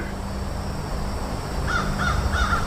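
Crows caw in a forest, a run of four or five harsh calls in quick succession over a steady background hum.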